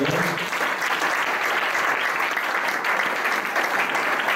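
A church congregation claps steadily in a dense, continuous wash of applause that stays loud and even throughout, with no talk over it.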